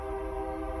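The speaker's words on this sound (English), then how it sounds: "Sorry, guys. There's a train." Train passing outside a room, heard as a steady droning rumble with a sustained horn-like tonal hum, fairly loud and continuous through the short stretch with no talk.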